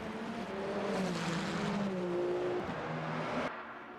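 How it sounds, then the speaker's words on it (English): Hypercars racing at Monza in Le Mans Ultimate, a loud sustained engine roar with shifting whine as the cars sweep past, then easing off abruptly near the end. "Stu being very, very kind and getting well out of the way for the faster hypercars coming through."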